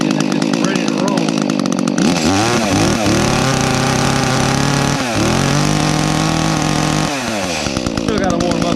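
A small chainsaw engine runs steadily at close range, its buzz rising and falling as the throttle is blipped and eased, with brief dips around the middle and near the end.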